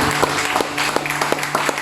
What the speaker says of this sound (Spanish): Dale un fuerte aplauso con todo tu corazón